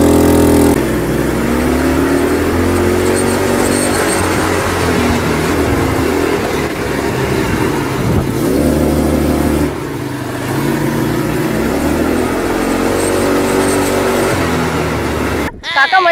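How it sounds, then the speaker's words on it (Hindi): An ATV engine drones steadily and loud throughout a ride on the beach, its pitch rising and falling with throttle changes, with voices partly audible over the motor. "तो चलिए बाइक राइड का मजा लेते हैं"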